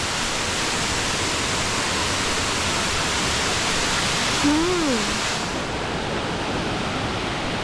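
Water pours down the Savdav waterfall in a continuous close roar of rushing spray, with a brief whistling tone rising over it near the middle.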